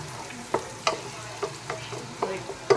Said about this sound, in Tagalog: Lagay na rin natin tong bawang. At hintayin lang natin silang mag golden brown.